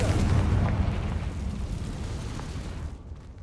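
A Confringo spell explosion in Hogwarts Legacy on PlayStation 5 gives a loud, rumbling burst that fades steadily over about three seconds into near silence.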